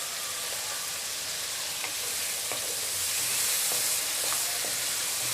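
Whole red chilies roasting in a hot pan, giving a steady bright sizzle and hiss with occasional light stirring scrapes, close and continuous.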